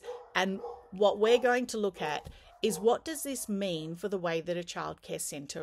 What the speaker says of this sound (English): So apologies for the dog in the background.